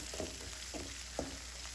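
Green chillies, ginger and curry leaves fry in hot oil with a soft, steady sizzle, faint and close, broken by a few light stirring scrapes.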